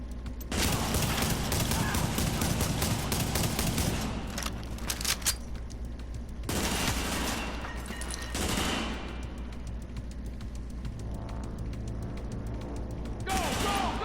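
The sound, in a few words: suppressive gunfire in video game Tom Clancy's The Division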